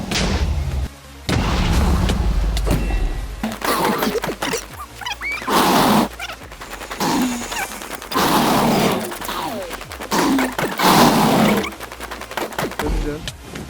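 Blocky explosions blast in Minecraft, several loud booming bursts scattered through a noisy stretch of gameplay, with a player's excited voice talking and laughing over them.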